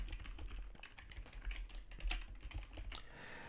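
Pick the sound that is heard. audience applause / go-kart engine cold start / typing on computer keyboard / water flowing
typing on computer keyboard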